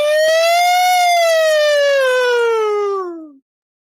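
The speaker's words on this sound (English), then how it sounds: "At what point did the ambulance come?" An ambulance siren gives one loud, close, sustained wail that rises slightly, then slides down and cuts off after about three seconds, heard alone.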